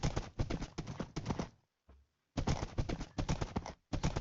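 Horse in a video game trotting, with steady rapid clip-clop hoofbeats in loud bursts broken by a brief pause, close and alone.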